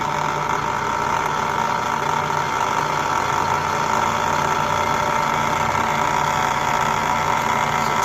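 Alternator of a 36-inch DIY wind turbine spun up to 300 RPM on a test rig, a steady loud whirring drone with an even mechanical hum and faint vibration, continuous and close, with no talk.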